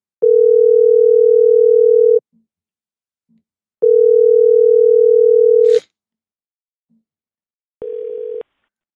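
A telephone call back gives two long, loud, steady tones of about two seconds each, separated by silence, then a shorter, quieter tone.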